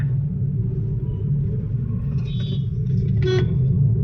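Busy road traffic in Taloja with a large container truck sets up a loud, continuous low engine rumble, while a brief horn-like tone sounds twice in the background near the end.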